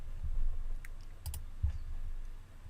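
A few quick computer mouse clicks, a single one then a close double, sound faintly over a steady low room hum while someone works through a web dashboard.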